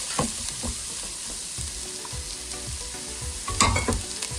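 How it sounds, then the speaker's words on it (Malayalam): A large chopped onion sautéing in a pan for a beef curry, giving a steady sizzle with repeated scrapes and stirs of a spatula throughout. "ഒരു വലിയ സവോള അരിഞ്ഞ് വെച്ചത് അതിട്ടൊന്ന് നല്ലവണ്ണം ഒന്ന് വഴറ്റണം."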